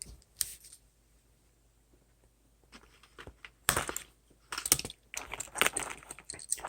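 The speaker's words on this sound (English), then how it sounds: "And so you'll snip that zip tie." A zip tie is snipped near a chest mod's actuator wiring, leaving a few sharp, close clicks and crisp cuts after a quiet pause, with small handling rustles between them.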